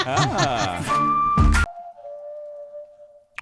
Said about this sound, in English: who whistled?